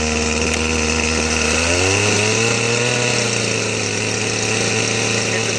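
A Poulan Pro 5020 AV chainsaw fires up from a cold start and settles into a loud, close, steady two-stroke idle, its pitch rising and then holding.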